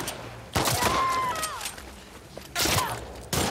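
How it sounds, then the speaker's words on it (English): Enemy gunfire in The Last of Us Part 2 arrives in short loud bursts of shots separated by quieter stretches, with a tonal whine drifting through the gap between volleys. "Who's fucking shooting me?"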